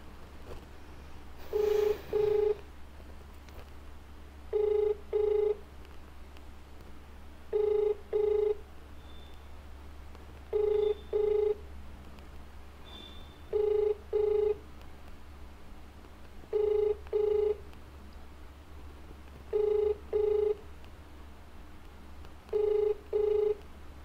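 An outgoing phone call rings unanswered, with paired ringback tones repeating at a steady interval of about three seconds, clear but moderately quiet over a low background hum.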